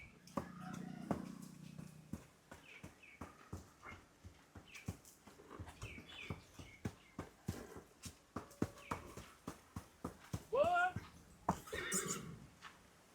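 A mare neighs loudly several times while her hooves clop and thump in a quick, irregular rhythm on the ground nearby, with people talking throughout.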